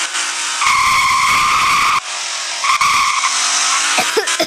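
Tires squeal in repeated bursts as a car skids in a Roblox driving game, loud high-pitched screeches broken by short gaps over an engine hum, with no talk.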